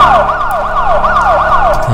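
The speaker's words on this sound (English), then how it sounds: "so the siren's there as well." A loud electronic siren wails up and down in quick repeating sweeps over a music backing, with a low tone entering at the end.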